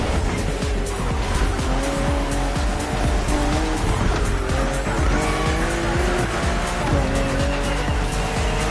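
A BMW M4 CSL in the racing game The Crew Motorfest accelerates hard with a loud continuous engine roar, tires squealing and skidding throughout, with gear shifts shifting the pitch up and down.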